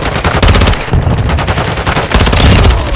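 Rapid automatic gunfire in Modern Warfare 2, a dense, loud burst of close-range shots rattling almost continuously, with a short gap before firing resumes.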